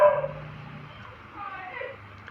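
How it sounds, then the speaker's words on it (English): A dog outside during Khmer New Year celebrations in Cambodia gives a short bark at the start, then quieter yips under a voice. "I know it doesn't sound like it's friendly because of his bark, but it's very friendly"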